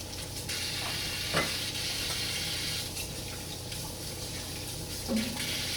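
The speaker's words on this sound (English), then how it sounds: "We're gonna wash our hands first." Tap water runs steadily into a sink as hands are washed before cooking, a continuous soft splashing rush with a few brief clinks, heard alone without talk.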